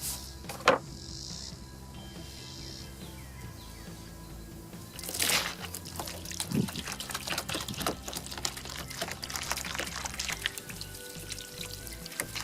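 Water pouring and trickling over painted vinyl shutters during a rinse, a steady wash of liquid with scattered splashes and drips, fairly close and moderate in level.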